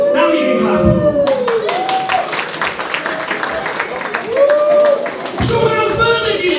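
A wrestling show crowd claps and cheers together at a live event, dense clapping filling the room while an announcer's amplified voice speaks over it at the start and end.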